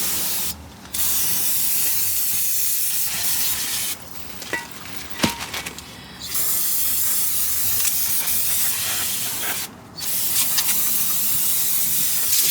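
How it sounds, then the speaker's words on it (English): Brake cleaner sprayed from an aerosol can onto the brake rotors of a 2006 Honda Odyssey during a brake change, loud close bursts of hissing spray in several long pulses separated by short pauses. "Spray a little brake cleaner around it"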